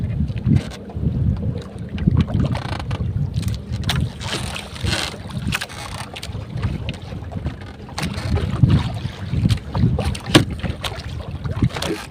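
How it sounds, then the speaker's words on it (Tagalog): A boat pushes through large waves at sea, with steady rushing water and wind buffeting the microphone throughout, occasional heavier thumps as the hull meets swells. "ang alon medyo malaki ang alon"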